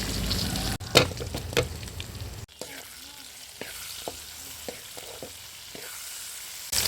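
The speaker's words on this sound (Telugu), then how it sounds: "ఎర్రగడ్డ, తెల్లగడ్డ బాగా ఫ్రై అయిన తర్వాత టమోటాలు అయితే వేసేస్తున్నాము" Onion, garlic and tomatoes fry in a pan for a dry prawn and brinjal curry, a steady broadband sizzle broken by several sharp clatters and scrapes of a spoon stirring, with a louder burst partway through.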